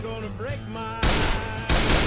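Two loud bursts of rapid gunfire cut in after a stretch of strained, pitched voice, the second burst following about half a second later.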